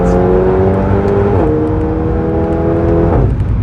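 A stock-turbo VW Golf 7R accelerates hard out of a corner, heard loud and close from the cabin, its engine note climbing steadily, dropping back at a gear change, then rising again with a turbo whir, without talk.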